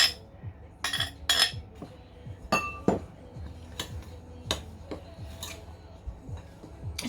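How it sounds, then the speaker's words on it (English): Fruit and sugar are stirred into a farmhouse fruit cake mixture, giving repeated close scraping rubs with bright clinks of a spoon against the bowl in an uneven rhythm. "now we're going to mix in the fruit and the sugar and give that a good stir through so that it's evenly distributed"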